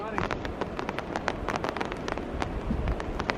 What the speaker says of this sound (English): We got the rain, we got the wind, we got all the elements out here at Portstewart.